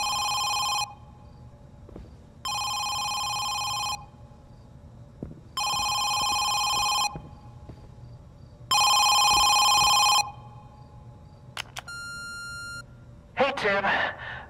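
A telephone rings in the horror video game Home Sweet Home, four loud, bright electronic trills separated by pauses, followed by a short beeping burst and a brief rustle, with no talking over the rings.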